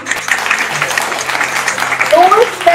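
Audience applause at a Holi special family contest in a store, a steady wash of clapping that runs throughout the moment, with voices and crowd noise mixed in underneath.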